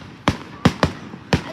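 Four sharp fireworks bursts crack in quick uneven succession, loud and close, each a short explosive pop that fades fast.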